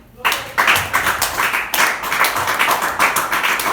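Church congregation clapping together at a sermon, a loud, dense run of handclaps that starts abruptly and keeps going with a slightly uneven rhythm for a few seconds, voices faintly mixed in.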